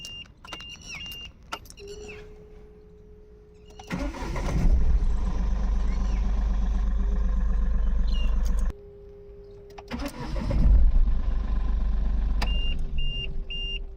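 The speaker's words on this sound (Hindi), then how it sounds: "आइए गाड़ी का इंजन स्टार्ट करके दिखाता हूँ।" A Mahindra Bolero Neo with the mHawk diesel engine is cranked and catches twice, each start settling into a loud, steady diesel idle, with dashboard chimes and beeps before and between the starts.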